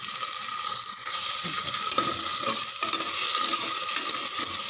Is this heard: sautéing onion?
yes